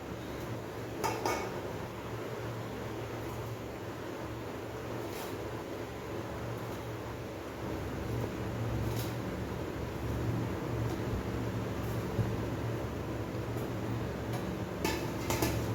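Cut gunda pieces are stirred into spiced pickle masala for gunda-keri pickle, with soft scraping and occasional light clinks of a spoon against the bowl, steady and close.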